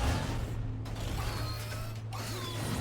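Mechanical transformation of a car in Batman: The Telltale Series, a steady run of whirring, clicking gears and creaking parts over a constant low hum, with metallic ratcheting shifts near the middle and end.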